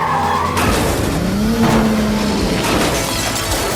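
A car in the BeamNG.Drive driving game brakes hard and skids during an ambush car chase. The tires squeal loudly for a few seconds under a constant engine and road roar.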